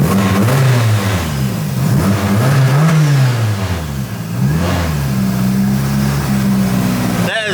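A rear-wheel-drive Mitsubishi Evo engine runs loud and close, with a rough, throbbing idle that rises and falls through several revs, while people talk excitedly over it.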